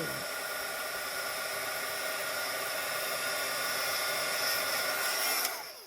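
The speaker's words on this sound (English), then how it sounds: "And then we'll hit it with a heat tool." A craft heat tool blowing hot air onto gold embossing powder, a loud, steady, close whooshing hiss that holds unbroken for several seconds before cutting off abruptly.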